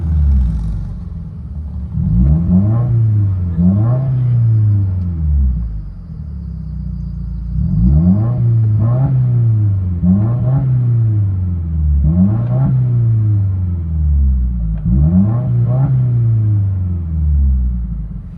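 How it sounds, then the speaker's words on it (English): A 2017 Subaru WRX with its 2.0L turbo engine and straight-pipe exhaust, mid and muffler deleted, heard from inside the cabin: three repeated rev cycles, each a deep rumbling surge climbing and falling, loud and close, no talking. "'17 Subaru WRX mid delete and muffler delete."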